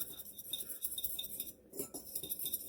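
Utensil scraping and clinking against a bowl while mixing keto fathead pizza dough ingredients, a busy irregular metallic clatter heard close up with no talking.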